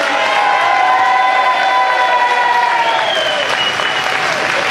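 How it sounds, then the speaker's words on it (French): A loud, continuous wave of audience applause at a festival-style evening event fills the space, with cheering and a sustained whistle-like tone riding over the clapping throughout. "Sous un tonneau d'applaudissements"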